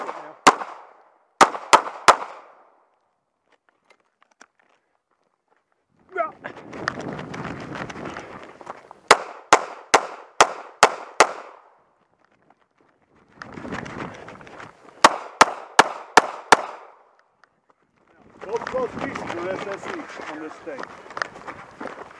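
Gunshots on a run-and-gun shooting stage at a 9/11 memorial match: loud, sharp shots in quick clusters of three to five, separated by stretches of running footsteps and rustling, some distant.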